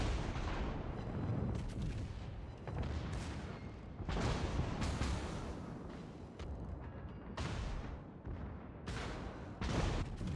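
Heavy naval guns fire HE shells in the World of Warships game, a string of loud booming salvos about every second or two, each with a deep rumbling tail, close and dense throughout with no talk.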